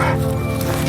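A dog that has run in front of a car barks and yips loudly and continuously, close up, with an overlapping voice.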